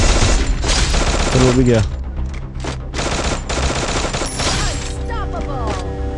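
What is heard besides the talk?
gunfire in the video game Free Fire Max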